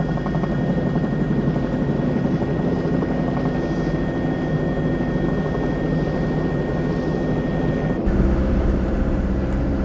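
A large firefighting helicopter's rotor thrums steadily and loudly overhead during a forest fire response, with a constant droning whine running through it and a brief shift in tone near the end.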